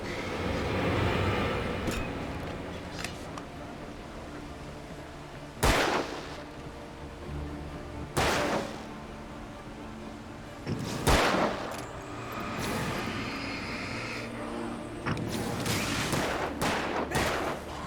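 Sharp bursts of gunfire in the horror game Alan Wake, a handful of loud separate shots spaced several seconds apart over a dense, rumbling background of noise and music.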